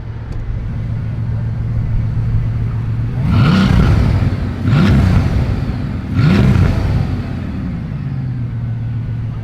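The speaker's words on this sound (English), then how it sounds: "The turbo sounds so good." A sports car engine with a turbo idles with a steady low drone, then revs three times in quick succession, each rise swelling and falling away, loud and close with no one speaking.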